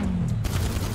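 Gunfire in GTA 5, a dense burst of close, loud shots packed into about a second over a low rumble, with no talking.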